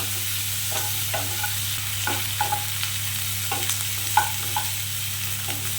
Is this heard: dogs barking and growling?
no